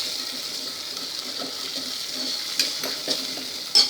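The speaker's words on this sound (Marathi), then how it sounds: "मिरे आणि कांदा लाल करून घ्यायचा आहे थोडासा." Bay leaf, peppercorns and onion sizzle in hot oil in a pan for tomato soup, a steady close hiss with a few louder crackles and scrapes toward the end.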